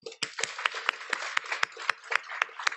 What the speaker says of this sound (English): let's give another round of applause for past Gold Award Girl Scouts and highest award alum